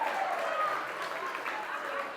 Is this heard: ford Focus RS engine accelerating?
no